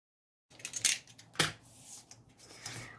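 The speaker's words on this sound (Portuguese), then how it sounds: "Vai passando várias vezes até cortar todo o papelão." A utility knife drawn repeatedly through cardboard, a few scraping strokes with one sharp cut standing out, close and fairly quiet.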